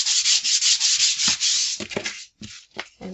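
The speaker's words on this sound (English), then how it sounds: "Just sandpaper" Sandpaper scrubs sticky residue off a kitchen wall in quick, rhythmic back-and-forth strokes, loud and close, then breaks into a few shorter separate rubs, with no talking.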